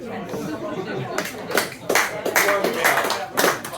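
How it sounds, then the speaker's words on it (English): Applause breaks out from an audience at a live show in a chapel venue, several bursts of crisp clapping following a stretch of murmuring chatter, fairly close and full. "it sounded like rain, but somebody told me it was applause"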